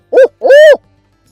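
A person imitates an owl with their voice as a turkey-hunting locator call, two hoots: a short one, a brief pause, then a longer, drawn-out hoot, close and loud.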